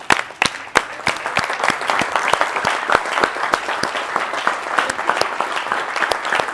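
A church congregation claps along during a livestreamed service, with sharp, irregular handclaps, a few louder near ones up front, over a steady bed of many hands, without talk.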